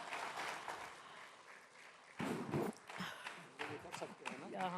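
Audience applause at a live stage event honoring actor Pankaj Tripathi, a dense patter of clapping that swells in bursts, with voices and cheering mixed in.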